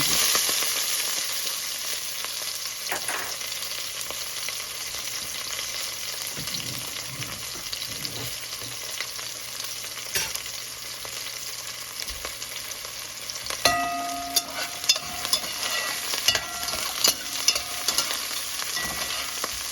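Cumin seeds sizzle and toast in hot oil in a pot as seasoning for chickpeas, a steady close frying hiss with occasional stirring clatter and sharper pops near the end.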